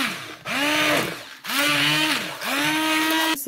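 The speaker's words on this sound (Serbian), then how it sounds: "sad samo uzmemo sa štabnim mikserom i izmiksamo sve" Immersion blender puréeing cooked vegetables into a cream soup, three loud whirring bursts each about a second long with short pauses between, the motor pitch dipping as it churns through the thick mixture, no talk.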